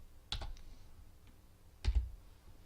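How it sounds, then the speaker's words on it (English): Computer keyboard keys pressed while entering a number into a spreadsheet formula, two quiet bursts of clicks close by with a gap between, no talking. "So I'm going to type the number 3."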